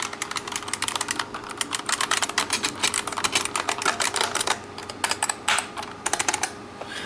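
Fast typing on a bolt-modded Unicomp keyboard, a dense run of sharp, close clicky keystrokes in irregular bursts with short pauses, loud and alone.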